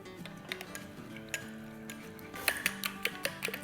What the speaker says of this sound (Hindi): इसको अच्छे से फेंट के स्मूथ कर लेंगे